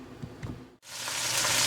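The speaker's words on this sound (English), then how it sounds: "Listen to that sizzle." Beef pot roast hits a hot pot on a stovetop on high heat, bursting into a loud, steady sizzle that swells and holds after a moment of quiet following faint handling sounds.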